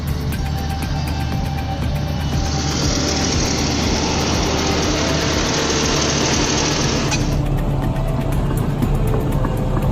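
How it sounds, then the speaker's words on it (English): A Caterpillar 120K motor grader engine runs steadily while cutting a ramp, a continuous loud diesel drone with a brief higher hissing whine layered over the middle stretch. "When cutting a ramp with a Caterpillar 120K"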